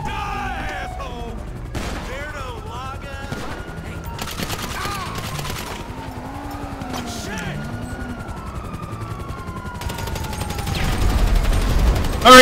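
Video game gunfire rings out in scattered bursts and single shots amid explosions and engine whines, with players talking excitedly over the action.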